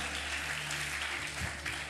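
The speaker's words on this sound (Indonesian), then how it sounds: "Tepuk tangan yang mulia bagi Allah kita." Congregation applauding during a Sunday morning church service, a faint, dense wash of many hands clapping together at a distance, steady throughout with no talk.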